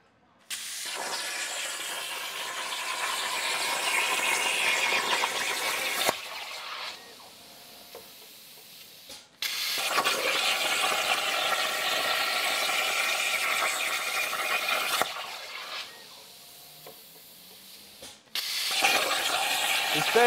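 A CNC machine cutting, a steady high hissing, grinding tone that runs in long stretches and drops away abruptly several times before resuming.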